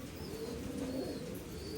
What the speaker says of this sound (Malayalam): ഇതാണ് അതിൻ്റെ അമ്മപ്രാവ്